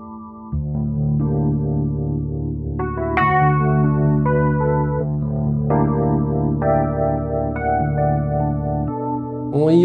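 UAD Spark Electra 88 vintage electric keyboard played through amp-like distortion, with sustained chords shifting every second or two, loud and alone.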